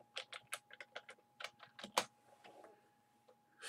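Keys on a computer keyboard are tapped in an irregular run of soft, close clicks with brief pauses, faint and alone.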